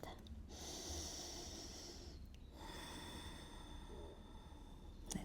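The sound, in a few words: deep breathing during a yoga stretch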